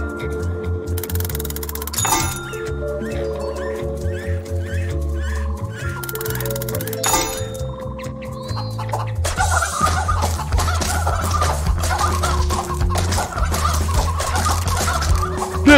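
Chickens cluck in the DeathSpank video game, a busy run of clucks and clinks layered over game music, with the background growing denser and louder partway through.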